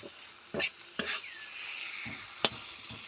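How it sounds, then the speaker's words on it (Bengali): Whole garam masala spices and two bay leaves sizzle and crackle in hot oil with a steady low hiss, punctuated by a few sharp stirring clinks. No voices. "মশলাগুলি মোটামুটি ভাজা হয়ে আসছে"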